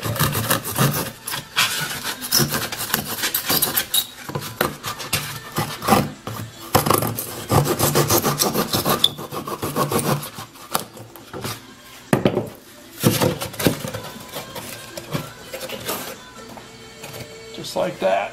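Styrofoam being trimmed off a habitat build gives loud, continuous scraping, rubbing and sawing strokes close up, running under a person talking throughout.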